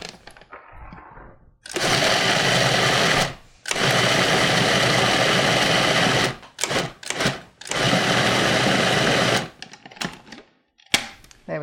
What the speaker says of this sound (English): I'm just going to blitz this one more time